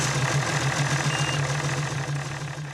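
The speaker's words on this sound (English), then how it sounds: "If the outboard runs, start it and run it idle for 5 seconds" An Evinrude E-TEC outboard motor idles steadily with a low, even hum and a faint knocking rhythm, close and loud, with no talk over it.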